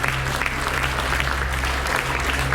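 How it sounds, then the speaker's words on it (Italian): An audience at a Miss Blumare event gives sustained, even applause from many hands, a steady wash of clapping over a low electrical hum. "Un applauso"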